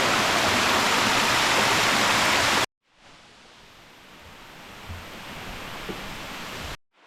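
Waterfalls at Erawan Falls in Kanchanaburi roar as a dense, steady rush of falling water, loud and close at first. After a sudden cut they return as a softer, more distant rush that slowly swells, with no voices.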